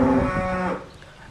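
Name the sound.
cow mooing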